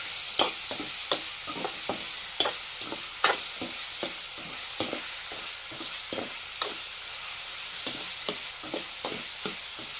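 Tomatoes fry in a pan with a steady sizzle while a spoon stirs them, scraping in repeated quick strokes close by.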